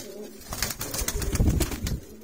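Soft pigeon coos with some fluttering, close by in Faisalabad, repeating in short bursts over a low outdoor rumble.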